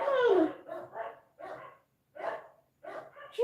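A dog barks close by in a quick run of five or six sharp, loud barks separated by short silent gaps.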